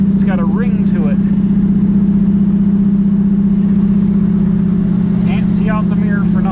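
A 1937 Buick street rod with a BluePrint 350 crate engine idles loud and steady with a deep, lumpy throb that stays constant throughout, while people talk over it inside the car.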